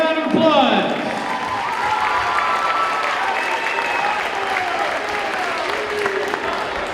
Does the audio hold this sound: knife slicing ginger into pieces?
no